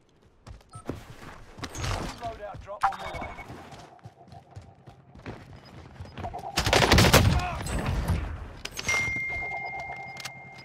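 Lapa submachine gun fire in Call of Duty Warzone on Rebirth Island: loud bursts of shots come in clusters, the heaviest and densest volley near the end, with faint game noise between.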